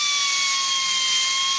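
A hand-held pneumatic workshop drill runs steadily and loudly on its own, a continuous high airy hiss with a sustained whine and no talking.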